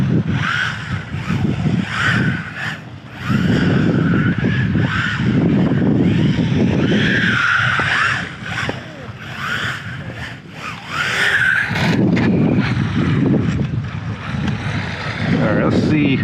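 An MJX 14303 Citroën rally RC car drives around in circles outdoors, its small motor whining steadily through continuous gusts of wind noise, with brief quieter pauses between runs.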